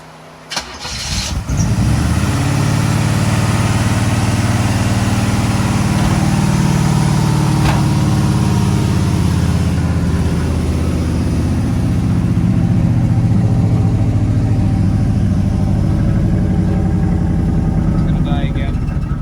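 A truck engine cranks and catches, then runs loud and steady at a rough idle for a long stretch, with voices heard over the engine.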